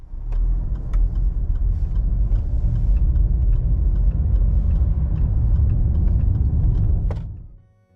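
A car drives along a road, its engine rumble loud and steady and the road noise continuous as it gathers speed, then it fades away at the end.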